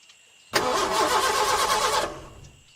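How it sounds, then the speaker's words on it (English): Car engine cranking over without catching, a sustained, loud starter churn lasting about a second and a half before cutting off, with no talk over it. "But when Dan turned the key, nothing happened."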